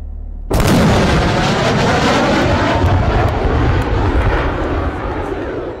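A sudden loud, rumbling roar bursts in after a short silence and sustains, like a jet boom followed by heavy engine thunder, close and powerful, as an aircraft breaks the sound barrier.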